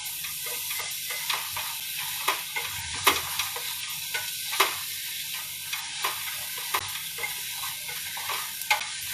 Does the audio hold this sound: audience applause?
no